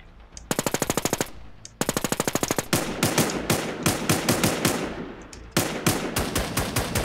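Rapid automatic gunfire in a multiplayer shooter video game, long loud bursts of evenly spaced shots with brief breaks between strings, close and dominant.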